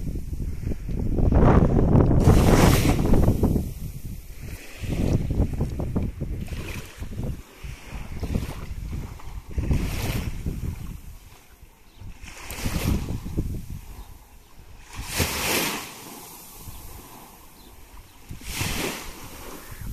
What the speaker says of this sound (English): Just enjoy a little bit the sound of the waves.